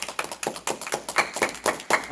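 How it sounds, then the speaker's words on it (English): Children clap together in a steady rhythm at a Sabbath gathering, a series of sharp, evenly spaced claps, close and fairly loud. "Clap for him."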